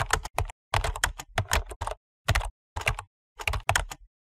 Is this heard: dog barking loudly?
no